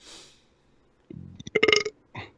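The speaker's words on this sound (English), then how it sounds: "I'm going to have the spicy burps all show now" A loud, drawn-out burp after eating spicy chips, rising in a rough, croaky series of pulses, then a short second belch after a brief pause. Nobody speaks.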